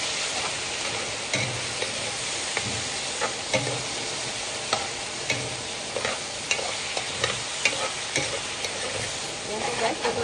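Tomatoes sauté in a hot pan for sarciadong tilapia, a steady close sizzle broken by repeated scraping stirs of a utensil against the pan, with no talking.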